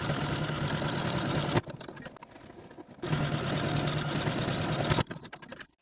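A sewing machine stitches buttonholes into blouse cuffs, running in two loud, close, fast-humming bursts of about one and a half to two seconds each, separated by brief quiet pauses.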